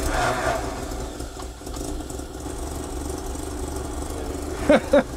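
A car engine idles steadily at moderate volume after a fuel problem was fixed, a smooth continuous rumble with a couple of brief higher sounds near the end.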